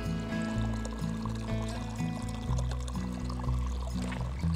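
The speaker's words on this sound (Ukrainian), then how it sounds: "Наберу ще термос води з собою, щоб ввечері не топити сніг." Cold mountain stream water in the winter Carpathians being poured into a thermos, a steady gurgling fill with rhythmic glugs, close and moderately loud, with no talk.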